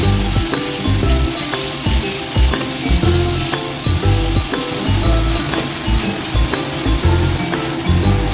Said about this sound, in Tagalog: Mix well lang natin hanggang maluto.